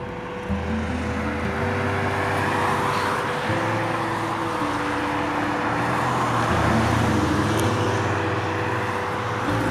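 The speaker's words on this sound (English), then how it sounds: "So a lot of traffic comes through here." Traffic passes a busy street corner in Radcliff, Kentucky, as a continuous loud engine and tire drone with shifting low engine tones from vehicles moving through.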